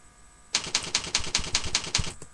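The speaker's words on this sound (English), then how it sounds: "you can now start typing in your comments" About a dozen quick keystrokes on a computer keyboard in a steady, even rhythm, close and crisp, with a faint background hum and no speech.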